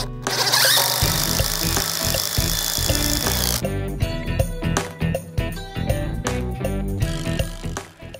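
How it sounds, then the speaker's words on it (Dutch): A power drill whirs and grinds in uneven bursts, close and loud, with the motor pitch dropping and catching as it drives a bolt into the middle of a wooden post. "En die boor ik even netjes in het midden van de paal,"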